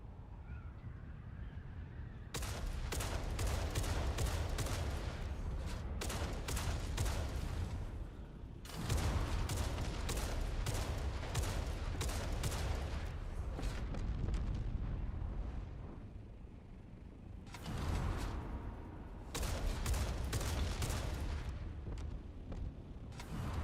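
Rocket fire and explosions in Dune Awakening PvP combat, a long run of loud booming blasts and crackling bursts that come in several dense waves with short lulls between them, with no talk over them.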